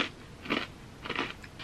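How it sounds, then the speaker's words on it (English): Crunchy Sakura Arare cherry blossom rice crackers with nori and soy flavour bitten into close up, two distinct crisp crunching bites about half a second apart, with no talking. "this is far more crunchy and has less of the airiness you get with senbei"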